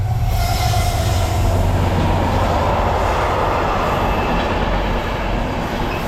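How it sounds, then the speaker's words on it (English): A freight train hauling ballast and rail wagons rolls past nearby, a loud continuous rumble and rattle of wheels on track with faint squealing, steady for the whole stretch. "Right, Stephen, that's a freight train."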